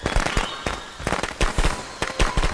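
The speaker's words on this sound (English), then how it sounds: "You gonna throw down them fucking firecrackers try to get me" Firecrackers thrown down in the video game Friday the 13th: The Game go off in a rapid, irregular string of sharp, loud, close cracks and pops.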